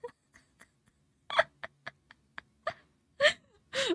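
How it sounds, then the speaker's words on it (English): A turtle moans in a series of short, irregular grunting bursts, a few sharp clicks leading into longer breathy groans, fairly close and alone, played back from a recording. "Le mandé el video de la tortuga gimiendo"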